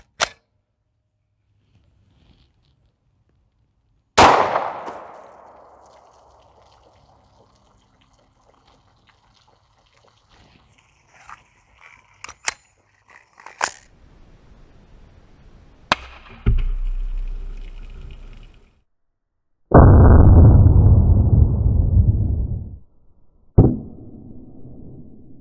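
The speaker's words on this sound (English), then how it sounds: "let's put the first round down range and see what happens" Sharp 10mm pistol shots fired at water jugs outdoors, each loud crack followed by a splash and gush of water, with spaced shots and quieter handling sounds between them.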